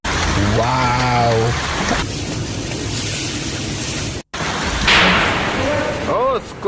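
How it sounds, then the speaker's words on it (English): A hailstorm in Dubai makes a dense, steady hiss of falling ice, partly under excited voices talking nearby. "Hailstorm here in Dubai."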